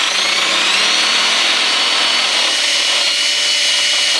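A small Dremel rotary tool cuts a hole in a Ford Crown Victoria dash panel, making a high, steady whine with a gritty edge that holds close and loud for a few seconds before stopping abruptly.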